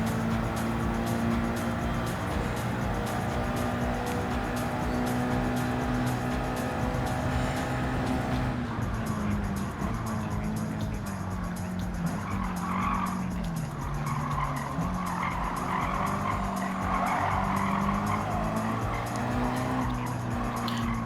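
Race car in the Gran Turismo 7 video game, a loud continuous engine drone with gear changes and long stretches of tire squeal and skidding, no talking.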